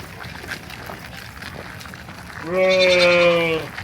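Sheep at a small farm in a historical village park, with a single clear bleat rising near the end over background murmur and ambient noise.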